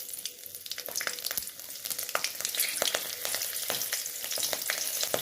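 Black cumin and green chili sizzle in hot mustard oil in a wok, a close, continuous frying hiss studded with sharp crackles and pops.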